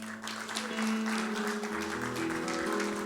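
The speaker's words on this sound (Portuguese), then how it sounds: "Você pode aplaudir o nome do Senhor?" A church congregation claps, steady broad applause close by, with a sustained organ-like tone underneath.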